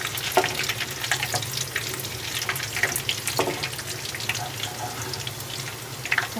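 Onions frying over medium heat for a tadka, a steady broadband sizzle with occasional spoon scrapes and stirring clicks, close and continuous with no voices.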